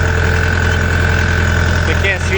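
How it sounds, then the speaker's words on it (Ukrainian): A 2024 Dongfeng 404 tractor engine idles loud and close, a steady low rumble with a constant hum that holds throughout. "І для вас відео про роботу трактора і самої сівалочки."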